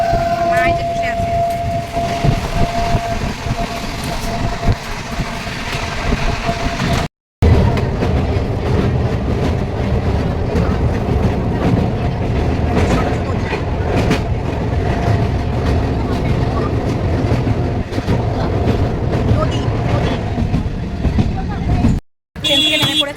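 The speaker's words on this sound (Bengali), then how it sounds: "ট্রেনে চেপে পড়েছি, এই যে ট্রেনটা ছেড়ে দিয়েছে" A passenger train from Barasat to Bardhaman rolls along with a loud, steady rumble and rhythmic wheel clatter, a sustained horn-like tone early on and two brief cut-outs, heard from inside a carriage.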